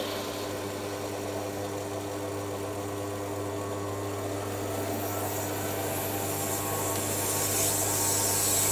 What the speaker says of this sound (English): It's not very sharp, this reamer.